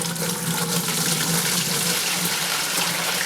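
Liquid for prickly pear mead is poured through a strainer, giving a loud, close, continuous rush of water without pause.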